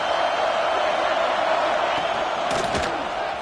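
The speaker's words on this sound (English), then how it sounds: "listen to this crowd coming through" A college football stadium crowd roars in a loud, continuous wash of cheering, with a few sharp bangs and whoops rising out of the din near the end.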